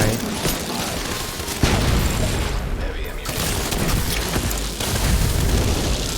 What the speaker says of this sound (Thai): พอเขาใกล้ถึงเขตที่จุดเกิด ปาระเบิดครับ